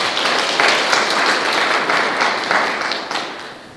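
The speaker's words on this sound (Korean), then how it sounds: "다시 한번 힘찬 박수" Strong, sustained applause fills a hall at a 2020 district volunteers' day ceremony in Eunpyeong, Seoul. Many hands clap in a thick, continuous roar that swells slightly and then eases toward the end.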